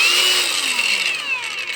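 A cordless battery-powered angle grinder spins up and runs with a loud, high whine that drifts lower in pitch over a couple of seconds, close and alone.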